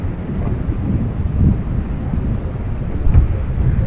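Strong wind at Lake Sevan buffets and rumbles across the microphone in continuous loud gusts, with no voices heard.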